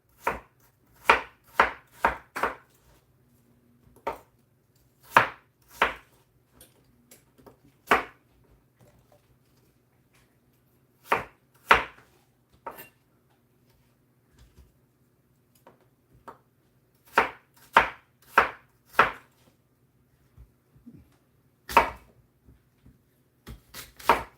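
Knife chopping through apples for an apple pie, sharp cutting strokes landing in quick bursts of three to five with pauses between, close and distinct over a quiet background.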